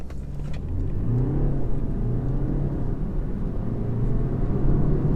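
BMW 320 launching from a standstill and pulling away, a low, steady rumbling engine note heard from inside the cabin with no talking.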